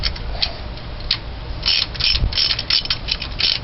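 A long bolt being loosened from a Ford 400 engine on a 1978 Continental Mark V, giving a close run of quick ratchet clicks in uneven bursts, with a soft metallic knock partway through.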